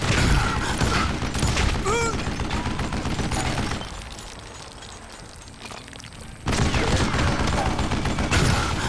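Gunfire and reloading in the Western shooter Call of Juarez: Gunslinger: loud bursts of shots and mechanical clicks, a quieter pause in the middle, then the shooting resumes.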